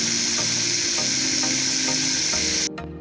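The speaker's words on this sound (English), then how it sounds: "I'm going to grind the whole black pepper so it will give a fresh taste" Whole black peppercorns being ground, a steady coarse crunching rasp with faint regular clicks, close and continuous, that cuts off abruptly near the end.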